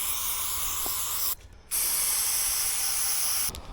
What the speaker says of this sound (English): So I'm going to use some brake cleaner and clean this up as best as I can.